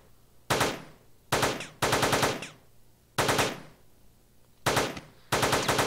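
Gunfire in the video game Teleglitch comes as six separate loud bursts of rapid shots, spaced irregularly with short quiet gaps between them, and no talk over it.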